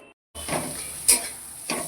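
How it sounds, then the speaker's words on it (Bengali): Onion paste frying in oil in a pan for paneer do pyaza gives a steady close sizzle, with a few stirring scrapes cutting across it. "পেঁয়াজটাকে ভেজে নিচ্ছি"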